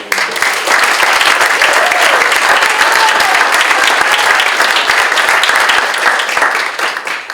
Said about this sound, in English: so give him another round of applause.